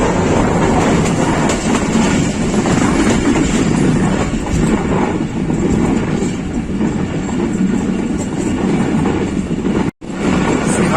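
The Pakistan Express passenger train rolls on rails at slow speed near Sihala railway station in Pakistan, a loud, steady rumble and rattle of railcars throughout, with a momentary dropout near the end.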